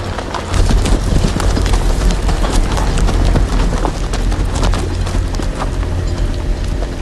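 Horse hooves clip-clop steadily through a Game of Thrones video game scene, with a dense, loud rumble of ambient sound running under the hoofbeats throughout.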